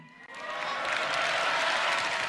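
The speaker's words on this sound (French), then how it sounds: "comme la foule comprend qu'elle a voulu des applaudissements à ce moment-là, elle va les lui donner, mais avec un décalage dans le temps" A crowd at a political rally applauds, a dense, steady wash of clapping that swells from a quieter start and holds, heard from a moderate distance.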